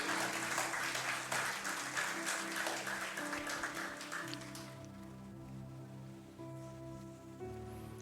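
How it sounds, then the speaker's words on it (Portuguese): Church congregation applauding during a sermon, a dense wash of clapping that fades out after about four seconds, followed by sustained music tones underneath. "Aplauda o nome do Senhor Jesus."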